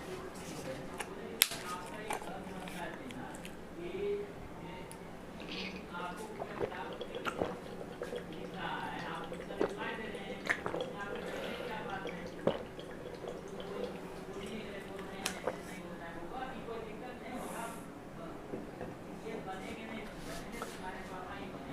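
Someone drinks water in a quiet room, with soft gulps, sips and small wet mouth sounds spread over a long stretch, plus faint clicks and light handling noises.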